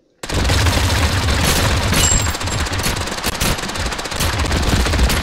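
Rapid automatic gunfire from the battle royale video game Totally Accurate Battlegrounds, loud and sustained in dense bursts for several seconds with a few heavier booms mixed in.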